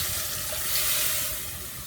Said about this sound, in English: we're gonna put the 1 cup of water in there.